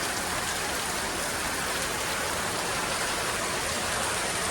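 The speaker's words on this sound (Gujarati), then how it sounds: "આજ તો કેટલું વરસાદ આવી ગયો. કાલનું એક ધારે શરૂ છે વરસાદ." Heavy, continuous rain pours down in a village setting, a dense, even roar of drops that stays loud and unchanging throughout, with no one talking.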